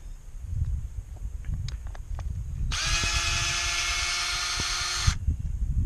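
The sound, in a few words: drill driving out star-drive deck screws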